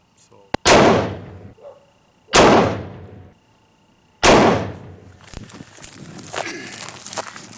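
Three loud, sharp .338 Lapua rifle shots at an outdoor range, the first a cold bore shot, each followed by a long decaying echo, then rustling and handling noise.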